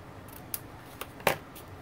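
Scissors trimming a paper shirt collar on a pattern card, three faint, quick snips spaced about half a second apart in a quiet room.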